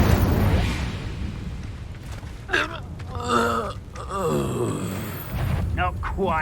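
In the video game Hogwarts Legacy, an Incendio fire spell is cast with a sudden whooshing burst and rumbling flare under a steady background score, mixed with strained character vocalizations and gasps.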